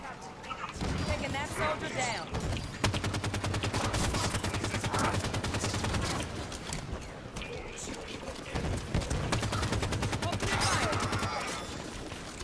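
Rapid gunfire in the video game Halo 5: Guardians during a campaign firefight, with sustained automatic bursts and scattered shots mixed with game effects, while a player talks over the shooting.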